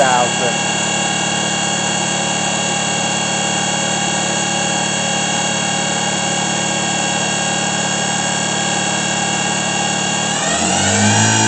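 Spindle of a Daewoo Lynx 200A CNC turning center with Fanuc 21T control running at 3,000 RPM, a loud steady high whine with layered tones that drops in pitch as it slows near the end.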